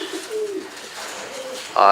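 Racing pigeons cooing in a breeding loft, low soft coos near the mic under a faint voice, ending in a sudden louder burst of sound.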